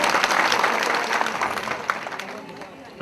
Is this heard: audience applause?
yes